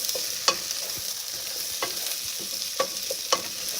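Potatoes sauté in hot oil for a Portuguese cod dish, giving a steady bright sizzle punctuated by several sharp stirring clicks and scrapes of the utensil in the pan.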